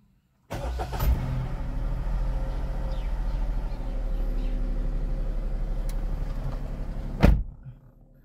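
A vehicle nicknamed Basanti cranks and fires up, its engine settling into a steady close idle after an abrupt start, then a sharp thunk like a door closing near the end before the sound trails off.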